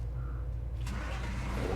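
A truck engine cranks and catches partway through, then settles into a low, steady running rumble with no talking.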